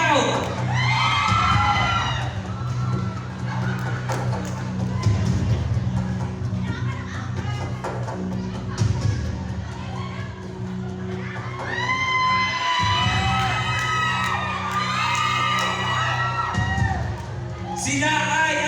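A crowd cheers, whoops and shouts at a Christmas party dance contest as the Hawaiian dance winner is named, loud and sustained in repeated bursts with a voice calling out over the din.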